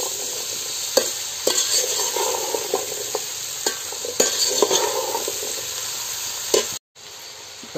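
Jackfruit pieces sauté in a spiced tempering over a wood-fired stove, a steady sizzle broken by sharp clatters of a spoon stirring against the pan, with a brief dropout near the end.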